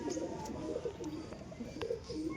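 A female home pigeon of the gom chhute jag type coos in a few soft throaty rolling phrases, close and moderately faint, with a quiet rustling background.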